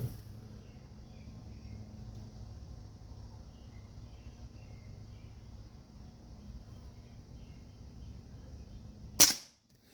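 A Crosman 2260 air rifle fitted with a Leepers 4x32mm AO scope fires once at a target, a single sharp crack near the end after a long quiet stretch of outdoor ambience.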